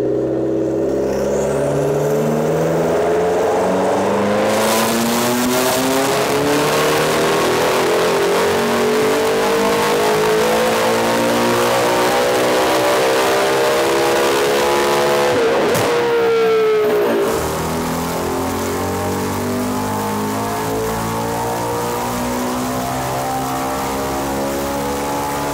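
Modified McLaren sports car on a dyno, engine revving hard through the gears: a loud, sustained rising roar with climbing pitch, a sharp lift-off and crackle near the end, then a lower steady drone, close and overpowering.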